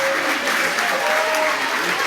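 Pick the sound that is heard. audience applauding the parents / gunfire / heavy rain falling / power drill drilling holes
audience applauding the parents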